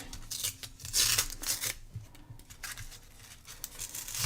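Backing being peeled away from craft paper for decorating tea tags, giving close, dry rasping and crinkling with uneven bursts of tearing and rubbing.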